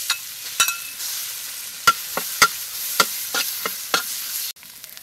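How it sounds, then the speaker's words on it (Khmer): Pounded spice paste mixed with kaffir lime leaf fries in hot oil in a pan, a steady close sizzle broken by sharp, irregular stirring scrapes and clicks, with no voices. "ប្រេងឆារបស់យើងបានក្តៅហើយខ្ញុំដាក់គ្រឿងបុកជាមួយនឹងលោកកសោតនេះចូល"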